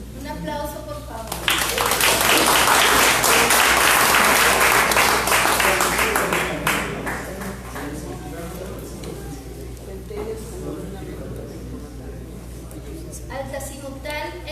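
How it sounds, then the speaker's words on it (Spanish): A classroom audience at a quiz about the sun applauds: loud, dense clapping swells after a brief voice, holds for several seconds, then thins into scattered claps before talking resumes. "Un aplauso, por favor."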